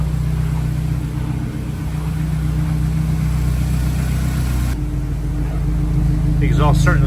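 An Acura Integra Type S engine idles nearby with a steady, low rumbling drone, and voices are heard briefly toward the end.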